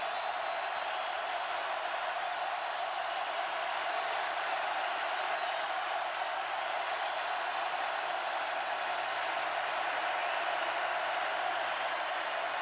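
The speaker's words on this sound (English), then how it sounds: "the crowd getting into it here on another 3rd down and 4 for Georgia" Steady roar of a football stadium crowd cheering for Georgia on a third down, a continuous wash of voices with no distinct peaks.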